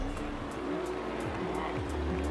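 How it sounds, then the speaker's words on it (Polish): Cars in the Forza Horizon 4 racing game, one a modified Renault Clio, hiss from a compressor over a loud, steady engine drone with repeated short bursts of hissing and no talk. "to jest fajne, no, że tak, że tak sobie syczą te samochody"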